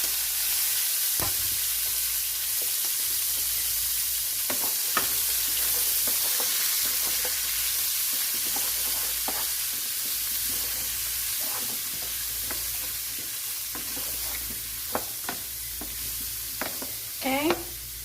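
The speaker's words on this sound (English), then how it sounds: "Next, we're going to saute our vegetables." Vegetables sautéing in a pan, with a continuous sizzle and frequent scraping, clicking stirs throughout, and a few louder knocks near the end.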